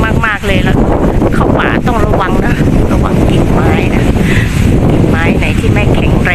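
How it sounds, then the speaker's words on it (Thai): Strong wind buffets the microphone during oyster mushroom foraging in a forest, a loud continuous rumbling roar throughout, with someone speaking over it. "วันนี้ลมแรง"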